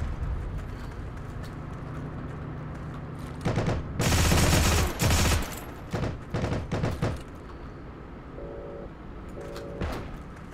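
Bursts of gunfire from the video game Heroes and Generals crackle in short volleys over a low background hum, with one loud cluster followed by scattered shots.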